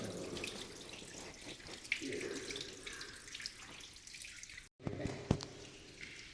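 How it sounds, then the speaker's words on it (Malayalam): Water trickles and drips beneath a church altar at a retreat centre, fed by a small motor pump, a faint running splash with occasional drips, quiet and close, briefly broken by a short gap. "ഇതിനടിയിൽ കൂടെ വെള്ളം ഒഴുകി"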